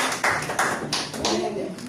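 Church congregation applauding in a brief burst of hand claps, several sharp claps blending into a short, close ovation during a service.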